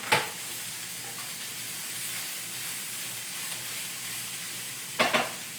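Turkey going into a hot pan for a Thanksgiving shepherd's pie, a steady sizzling hiss running throughout, with a clatter of stirring at the start and again near the end.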